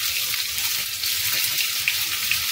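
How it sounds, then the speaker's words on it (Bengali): Chopped onion frying in hot oil in a pan with potatoes, a steady dense sizzle with soft crackles throughout, close and unbroken. "পেঁয়াজটাও হালকা লাল করে ভেজে নেব।"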